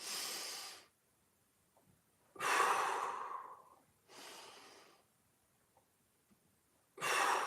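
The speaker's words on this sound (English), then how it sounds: "Inhale through the nose." Someone breathes in and out through the nose during a hip mobility exercise: four separate breath bursts, fairly close, with short silences between them.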